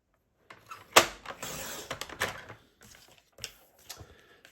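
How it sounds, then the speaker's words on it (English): A paper trimmer cuts a strip of basic white cardstock: one sharp click as the blade engages, then a short rasping slide of the cutter along the rail, followed by a few softer taps, close and quiet. "just bring it in your trimmer, cut that down to 8 centimetres"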